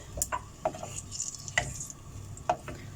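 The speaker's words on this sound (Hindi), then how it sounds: "आलू को फ्राई करना है" Potatoes frying in oil in a pan make a quiet, faint hiss, broken by a few sharp taps and clicks of a spoon at irregular intervals, with no talking.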